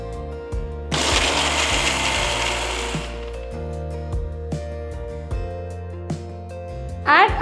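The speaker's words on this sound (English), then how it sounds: "To the mixer jar, add the red chilies first and grind them." Red chilies are ground in a mixer grinder jar, a loud whirring motor burst lasting about two seconds, followed by quieter clicks and knocks.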